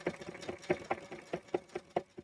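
Sewing machine stitching fabric for a mitered corner, a quick series of soft rhythmic mechanical clicks and whirs at close range, fairly quiet and alone.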